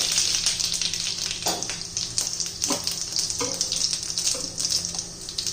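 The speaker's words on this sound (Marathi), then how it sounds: "तेल गरम झालेलं आहे मोहरी घालायची जिरं घालायचे" Mustard seeds and cumin sizzling in hot oil for a spicy pavta bhaji: a steady, close crackling fizz with scattered popping spurts as the seeds splutter, no talking.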